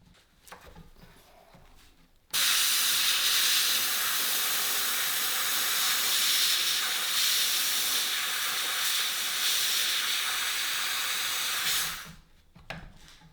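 An air gun blows into the rusty brake caliper of a Honda CB250 to push out the stuck piston, with air leaking around a PTFE-taped fitting: a loud, steady, close hiss lasting about ten seconds, then it cuts off.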